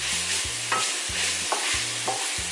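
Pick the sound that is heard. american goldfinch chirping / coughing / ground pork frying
ground pork frying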